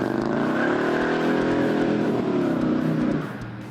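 A 1970 Dodge Coronet R/T convertible with a loose Sure Grip differential roars through a one-legged burnout, its engine holding a loud, steady high rev with tire squeal for about three seconds before easing off; no one speaks.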